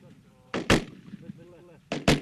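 A sniper rifle fires two sharp, loud shots at a target on a training range. The reports come about a second and a half apart, each with a short crack and a dull echo.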